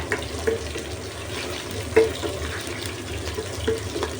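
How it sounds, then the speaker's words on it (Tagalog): Sliced onions hitting oil in a pan already used for frying kikiam, for pancit canton guisado, with a steady low sizzle broken by a few soft stirring clinks. "Lutuin ko lang yung ating sibuyas"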